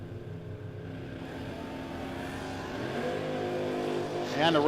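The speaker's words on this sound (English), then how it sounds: "Mopar on Mopar versus the 65 Darter Jonathan Gagnon" A 1965 Dodge Dart drag race car roars down the strip at a No Box drag racing shootout, a loud steady engine drone rising in pitch as it accelerates, heard from a distance with no talk over it.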